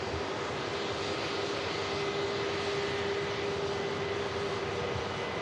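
EasyJet Airbus A321 jet departing Manchester Airport, bound for Dalaman, a steady broadband engine roar holding at fairly even loudness from start to finish, heard at some distance with no talk.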